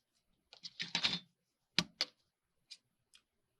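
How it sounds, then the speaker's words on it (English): A few crisp snips of scissors cutting through paper, a quick cluster followed by two lighter cuts, close and fairly quiet. "let me take my sticky scissors and cut that bottom off"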